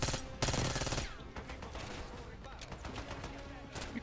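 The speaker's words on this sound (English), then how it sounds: "I think this gun, like, spits out bullets." Rapid gunfire from a weapon in the Black Ops 6 video game campaign: loud, dense bursts of shots, strongest at the start, with continued firing and game noise throughout.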